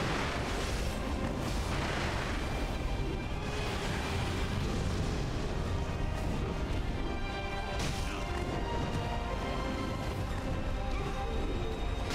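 Fireworks from the prosthetic tool in Sekiro: Shadows Die Twice go off during a fight, bursts of crackling explosions and crashing impacts filling a dense, continuous wash of battle noise.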